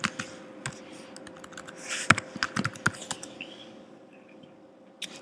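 Quick bursts of keystrokes on a MacBook keyboard as an admin password is entered, close and crisp, with uneven clusters of clicks and a brief pause before a final tap.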